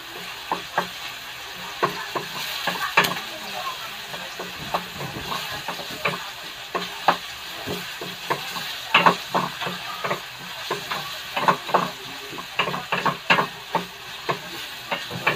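Pork sizzles in a hot pan under a constant bright hiss while a utensil stirs and scrapes through it in repeated clacks, close and alone with no talking.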